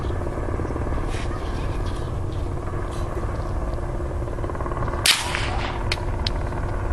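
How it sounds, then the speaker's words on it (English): A helicopter circles overhead, its steady low rotor drone filling the background throughout, with one sharp crack close by near the end. "the distinct sound of a helicopter circling can be heard"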